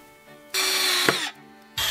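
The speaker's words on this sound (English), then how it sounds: "place the ladder hook to the top and drill it in" A power drill drives screws into a ladder hook on a bunk bed, buzzing in two short bursts close by, with a brief clicking pause between them.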